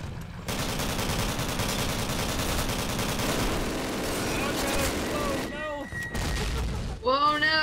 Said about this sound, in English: Artillery ready to go. Fire mission battery.